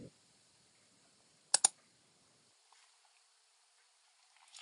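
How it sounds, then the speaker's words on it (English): Two quick, faint mouse clicks land close together on a setup installer's install button, with quiet background hiss and a few tiny ticks afterward. "You can go ahead and click on the install button."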